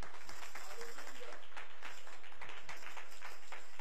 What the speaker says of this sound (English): Come on, let's give God a hand clap of praise.